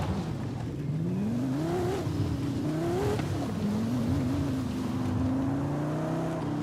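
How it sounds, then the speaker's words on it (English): A car engine in the racing game Forza Horizon 5 revs and accelerates, its pitch climbing in repeated surges before settling into a steady hum. The engine is loud and close, with no talking. "I like how the car sounds."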